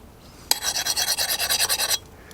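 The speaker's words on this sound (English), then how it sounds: "that high-pitched scrape sound means that the blade hardened" A file rasps across a hardened steel knife blade in quick back-and-forth strokes, a bright, high-pitched scraping rhythm lasting about a second and a half.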